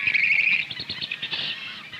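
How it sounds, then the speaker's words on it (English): Grebes on open water give bright, high chirping calls, a sustained shrill note followed by a quick run of shorter twittering calls, close and fairly loud. "The grebes are here all right, and so far they're not in the least afraid."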